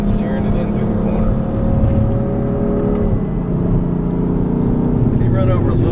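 A BMW M3/M4 on track at Road America, engine droning loud and steady as it downshifts and turns through a corner, with a pitch drop near the middle and someone talking over the engine.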